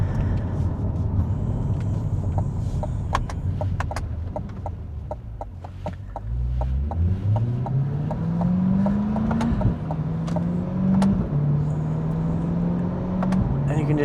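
A C8 Corvette engine with the Z51 package idles with popping exhaust, then revs and climbs in pitch several times, burbling and chirping between throttle blips; a voice speaks briefly underneath.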